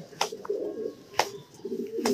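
Racing pigeons in a loft give soft, low coos between a few sharp brief knocks, moderately near, with no talking over them.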